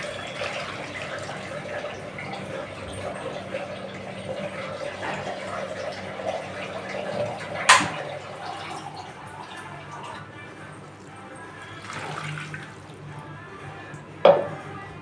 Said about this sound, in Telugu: ఇప్పుడు దీంట్లో వాటర్ వేద్దాం.